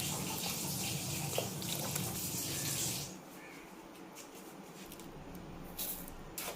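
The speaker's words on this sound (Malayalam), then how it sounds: "ഇതിലേക്ക് നമുക്ക് പാലൊഴിക്കാം" Milk pours into a homemade potti vellari (snap melon) juice in a steady liquid stream for about three seconds, then stops, leaving faint trickles and drips.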